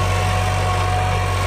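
An old tractor engine idles nearby in a steady, loud, low droning hum with a constant vibrating throb, unchanging throughout and heard alone without any talking.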